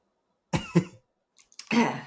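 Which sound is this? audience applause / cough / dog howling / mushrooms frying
cough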